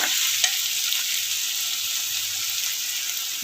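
Tomato masala fries and gets stirred in a pan, a steady close sizzle and hiss with faint scraping throughout, no voices.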